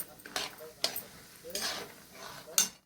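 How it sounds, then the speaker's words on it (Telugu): Peanuts frying in a pan while being stirred for a puffed-rice snack mix, with soft sizzling under a few sharp scrapes and clinks of a spoon against the pan. "అంటే పల్లీలు కొంచెంగా ఫ్రై అవుతున్నాయి."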